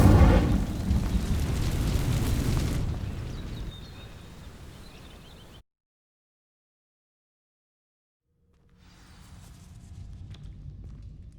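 An Incendio fire spell in Hogwarts Legacy goes off with a loud whooshing burst that fades over several seconds, followed by a stretch of silence and then faint ambient sound.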